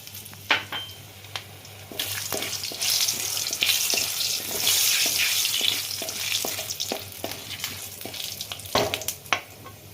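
Dried red chillies frying in hot oil for a potol korma with prawns, a continuous close sizzle swelling in the middle, punctuated by sharp spatula taps and scrapes.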